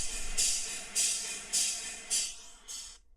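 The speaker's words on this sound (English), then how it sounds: "It's just gas filling up in the car." Fuel from a gas pump pours into a car's tank as a bright hiss that surges in five regular waves, each swelling and easing off, before the flow stops abruptly.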